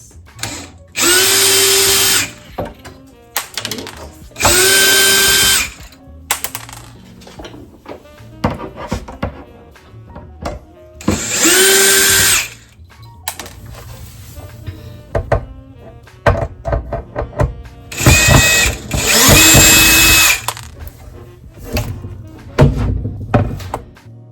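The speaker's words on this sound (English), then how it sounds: "I'm going to use my trusty drill to go ahead and remove the doors" A cordless power drill backs screws out of bathroom cabinet doors in four loud whirring bursts, each a couple of seconds long, with quieter clunks and handling knocks of the doors in between.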